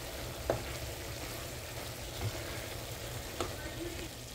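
Chicken gizzard with mixed vegetables cooks in a covered pan, giving a steady, soft sizzle with a few small pops, constant and moderately close, without talk.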